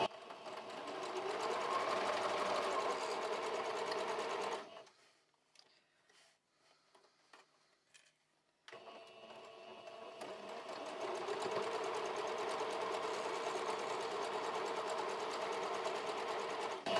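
Sewing machine stitching a patchwork hourglass block, a fast steady whirring run of several seconds, a brief pause with faint handling sounds, then another long continuous run, close and moderately quiet with no talk.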